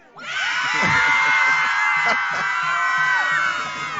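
A high school football crowd at a game between Appleton North and Kimberly screams and cheers loudly and continuously, a dense wall of shrill voices and whoops with a few clatters.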